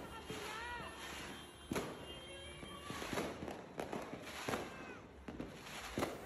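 New Year's Eve fireworks burst close by in front of a house, a run of sharp cracks and booms at uneven intervals over a constant high whine and background chatter, with people talking throughout.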